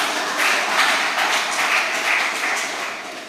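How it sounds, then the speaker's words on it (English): Audience at a community center lecture applauding, a dense, steady round of clapping from a crowd that holds evenly for a few seconds. "Give Cookie a special round of applause."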